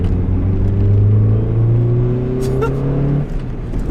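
An old Honda car engine revs hard and strains, a loud, close, droning rumble whose pitch climbs steadily before easing off near the end.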